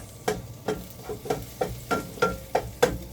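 Onions sizzling in a hot pan, with about eight evenly spaced scraping strokes of a spatula over a steady low frying hiss, close and clear.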